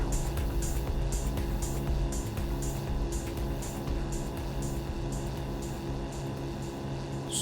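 An aircraft engine in the FlightGear flight simulator drones steadily and loudly throughout, a continuous low rumble with a faint pulsing hiss on top.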